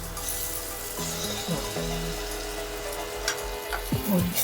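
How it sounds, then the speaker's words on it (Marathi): Sweet corn upma mixture with turmeric being sautéed and stirred in a pan, soft sizzling with scraping and clinking of a spoon against the pan, close and moderately loud, no talk. "ह्याला थोडं परतून घेऊ आता आता हे मिश्रण टाकून दे पूर्ण"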